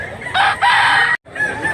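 Up close, a rooster at a sale of fowl in Mantalungon, Cebu, lets out a loud crow that breaks off abruptly, then a quieter call follows.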